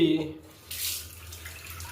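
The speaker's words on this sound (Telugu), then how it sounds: "నీళ్ళు బాగా వస్తున్నాయి" A newly fitted sink tap runs strongly, a close, steady splashing gush that starts after a brief spoken word and continues to the end.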